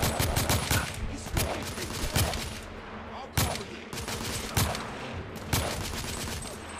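Rapid bursts of gunfire from a sniper fight in the video game The Order: 1886, with repeated sharp shots and rattling volleys over a busy battlefield din, a few louder cracks standing out near the end.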